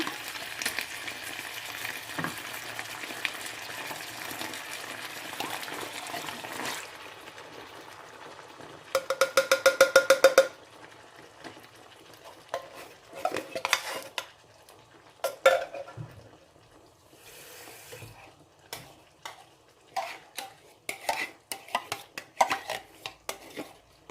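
Panang chicken curry simmers with coconut milk in a pan, a soft bubbling sizzle overlaid with repeated clattering stirs and metallic utensil knocks against the pot, loud and close.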